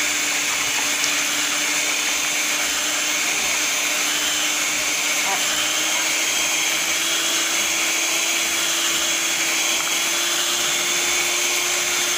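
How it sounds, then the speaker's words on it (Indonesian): An electric mixer beats granulated sugar and SP emulsifier at maximum speed, giving a loud, steady motor whine with a constant pitch that runs unbroken throughout. "bahan-bahan ini kita mixer dengan kecepatan yang maksimal"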